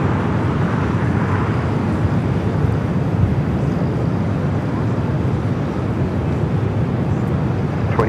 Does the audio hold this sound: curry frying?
no